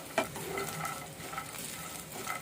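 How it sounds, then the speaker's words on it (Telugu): Tamarind, curry leaves and garlic cloves fry in an oiled pan, giving a brief, close, continuous sizzle and a faint stirring scrape. "కొంచెం చింతపండు వేసుకుంటున్నాము."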